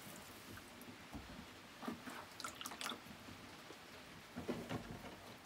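Faint, sparse drips of water falling onto a pottery wheel plate, irregular small splashes close by with no talk.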